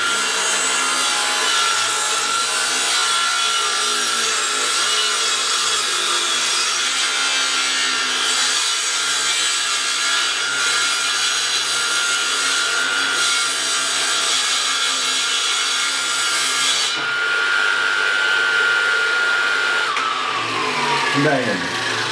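A hand saw cuts through a wooden board with a loud, continuous rasping grind that holds steady for a long stretch, close by and with no break between strokes.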